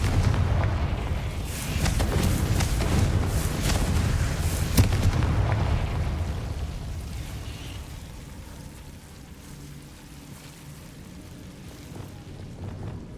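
A Confringo spell explodes in the Hogwarts Legacy video game with a heavy, booming rumble that swells, then slowly fades into a low, lingering roar.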